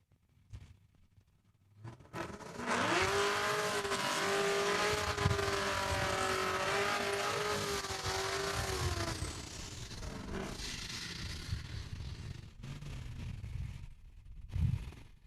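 A 2010 Chevy Camaro drag race car runs at Saskatchewan International Raceway, its engine snarling loud and close for about ten seconds, rising in pitch and holding a sustained roar before fading, with a brief burst of engine noise near the end.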